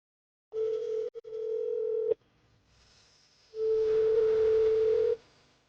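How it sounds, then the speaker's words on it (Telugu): A phone call's tone sounds in two steady beeping bursts, close and loud, separated by a short quiet gap, with no speech. "ఒకసారి సీతకు ఫోన్ చేయండి."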